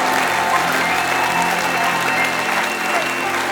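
A church conference congregation claps and cheers in praise, a dense, loud, sustained applause filling the hall with crowd voices mixed in.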